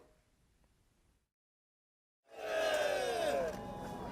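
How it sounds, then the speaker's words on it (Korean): Thousands of citizens shout manse cheers in the streets of Jeonju at the 100th anniversary commemoration of the 3.13 independence movement. A quiet lull gives way to a sudden, loud, sustained roar of massed voices. "100년 전 그날처럼 만세 함성이 쉴 새 없이 터져나옵니다"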